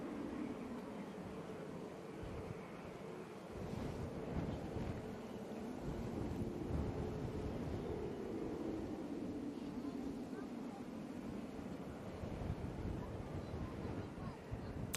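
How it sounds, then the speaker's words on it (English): Gusty wind at Manchester Airport mixed with the rumbling jet wash of an Airbus A380, a broad continuous roar buffeting the microphone at steady moderate loudness with no clear pauses. "Wind getting up"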